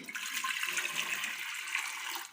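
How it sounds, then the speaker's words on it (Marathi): Water pours steadily into a pressure cooker holding bottle gourd, a continuous hissing splash at close range with no talking. "पाणी घालते मी"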